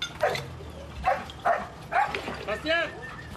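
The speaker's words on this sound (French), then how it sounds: "Au bout de quelques minutes, le chien aboie." A rescue search dog barks at earthquake rubble in Turkey or Syria, giving about five short, evenly spaced barks at moderate distance over a low outdoor rumble.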